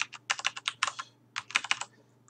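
An email address is typed on a computer keyboard. Close, crisp key clicks come in quick irregular bursts with a short pause in the middle and no talking.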